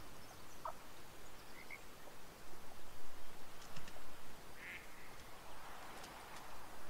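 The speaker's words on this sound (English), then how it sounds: "I heard quacking." Ducks quacking in the hunting video game Way of the Hunter, a few faint, distant calls scattered over a steady breezy outdoor ambience.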